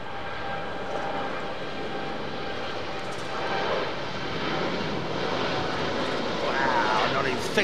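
Etihad airliner on the runway near the runway end, its engines a steady broad roar that builds slightly toward the end, with people talking over it.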